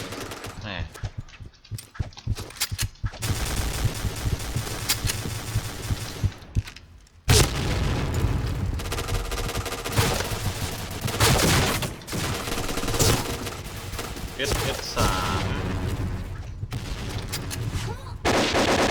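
AK-12 rifle fire in the shooter game Point Blank comes in dense, loud automatic bursts that run almost continuously with brief pauses, joined by occasional heavy booms and mixed with a speaking voice.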